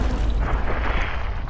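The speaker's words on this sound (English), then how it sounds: "Masts of both ships crash down as the cannons continue." Heavy, low rumbling booms from warship cannons at the Battle of Trafalgar roll together into a continuous thundering barrage, dense and loud, like sustained distant cannon fire.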